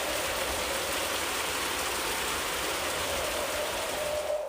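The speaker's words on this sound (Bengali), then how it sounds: "গাছপালা যেন ভেঙে ঝড় বৃষ্টি শুরু হয়ে গেল" A storm breaks in an animated story: steady, dense rain pours without letup, loud and even throughout, with no voices over it.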